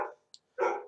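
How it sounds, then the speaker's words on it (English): Dogs barking at a distance, two short barks separated by a brief pause, with a faint squeak between them. "the dogs are barking, which is annoying"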